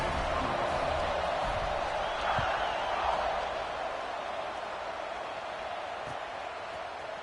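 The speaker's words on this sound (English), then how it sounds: "this crowd is feeling themselves after that last drive." Steady stadium crowd roar from an NCAA 26 college football video game during a fourth-quarter kickoff, a broad continuous wash of noise with a slight swell midway, no distinct cheers standing out.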